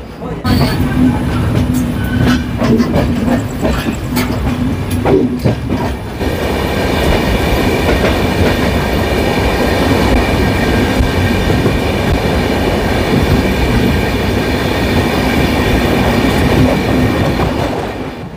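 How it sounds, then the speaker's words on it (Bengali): Howrah–Puri Superfast Express train running on the line, a loud continuous rumble of wheels on rails with rhythmic clatter and occasional squeal, steady throughout as if heard from inside a moving carriage. "আমাদের এই হাওড়া পুরী সুপারফাস্ট এক্সপ্রেস হাওড়া থেকে পুরীর মধ্যে টোটাল 500 কিলোমিটারের যাত্রা কিন্তু শেষ করবে"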